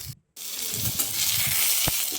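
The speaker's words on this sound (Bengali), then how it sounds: "এগুলোও লালচে লালচে করে ভেজে নিতে হবে" Diced potatoes fry in hot oil for a moong dal kalia, a steady close, bright sizzle that cuts out briefly near the start and then carries on with a faint clink.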